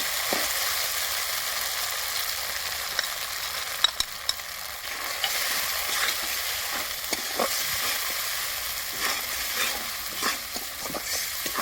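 Ground spices frying in a pan with onion and spice paste, a steady broadband sizzle throughout with scattered stirring clicks and scrapes, close and continuous, no voices.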